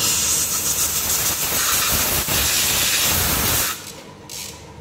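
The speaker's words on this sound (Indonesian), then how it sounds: "Kita tinggal semprot menggunakan udara bertekanan." A loud, continuous hiss of compressed air blows over a Yamaha NMAX motorcycle part. The hiss holds steady for several seconds, then cuts off sharply and leaves a fainter hiss behind.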